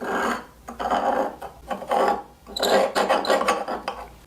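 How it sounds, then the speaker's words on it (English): A steel blade from an old plane, being reshaped for a Stanley No. 40 scrub plane, is scraped along its edge toward a 3-inch radius: repeated close, rasping strokes in an uneven rhythm with short pauses, no talking. "3 inches, and just scrape that edge."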